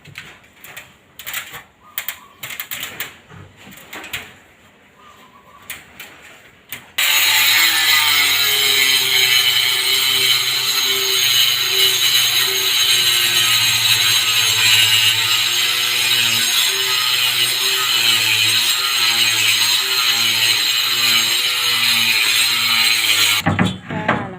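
Wood being cut for floorboards on a renovation job, a sustained loud whining power saw running steadily for about seventeen seconds after a few short knocks and handling noises.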